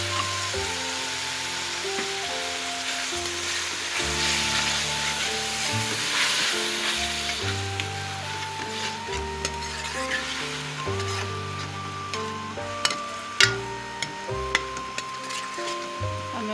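Tomato paste sizzles steadily in a pan for a potato and radish-pod curry, a broad hiss running throughout beneath loud background music, with a few sharp clinks near the end.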